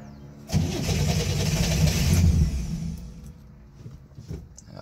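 A Chevrolet Corvair engine cranks and catches after its carburetor is sprayed, bursting into a loud rough run that holds for a couple of seconds before sputtering down to faint uneven firing.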